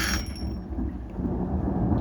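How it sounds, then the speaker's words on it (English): Thunder rumbles as a low, heavy roll lasting about two seconds, partly masked by a nearby idling nitro engine. "You guys heard that thunder and the lightning out there just now?"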